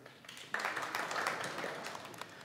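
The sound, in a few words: applause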